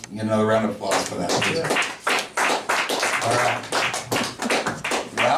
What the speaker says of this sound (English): We get another round of applause for that.